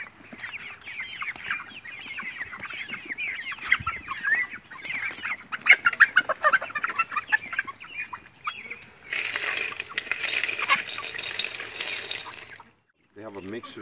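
Chicks and chickens cluck and peep in a busy, fairly close chorus of short calls at a farm feeding spot, with a brief burst of louder noise near the end before it falls quiet.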